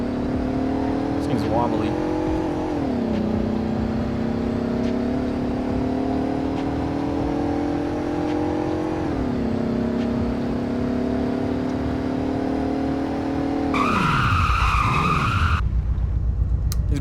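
In a Roblox Greenville speed test, a car engine drones and climbs in pitch, shifts several times and then whines up sharply as the run ends, with tyre noise and a brief spoken remark over it.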